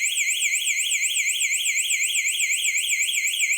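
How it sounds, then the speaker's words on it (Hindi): A home security system alarm, part of a shutter security device, wails continuously with a rapidly warbling high-pitched electronic siren, steady and loud with no other sounds. "ये मैं प्रेस किया, यहाँ से अलार्म चालू हो गया।"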